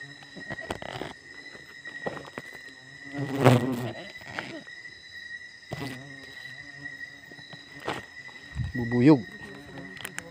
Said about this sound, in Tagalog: So, bubuyog.